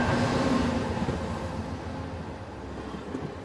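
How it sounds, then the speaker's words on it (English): A train pulling into its final station: a low, steady rumble and rolling rail noise that slowly fades as it slows. No voices. "the train arrives at the last station"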